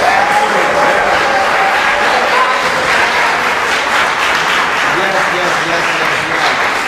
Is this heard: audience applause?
yes